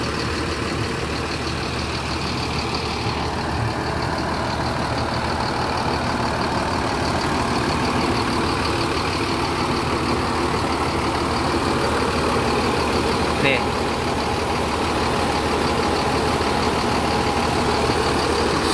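A Po. Haryanto bus engine idles smoothly, a steady dense low rumble that holds at an even, continuous level with no talking over it.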